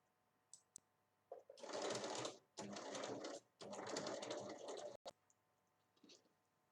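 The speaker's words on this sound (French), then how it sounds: "on va coudre ici au bout" Sewing machine stitching the ends of two fabric pieces placed right sides together for a two-zip pouch, running in three steady bursts of several seconds each with short pauses, close and fairly loud, with light clicks before and after.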